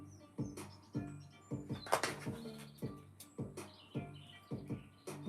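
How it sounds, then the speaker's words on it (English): A bird sings in a steady sequence of short, repeated chirping phrases about twice a second, fairly faint and alone with no talking. "you hear the bird start singing even louder"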